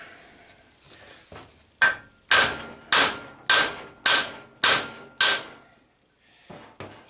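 A hammer strikes the shaft of an old electric motor that is being scrapped, several sharp metallic blows in an even rhythm, close and loud, with a few lighter taps before and after.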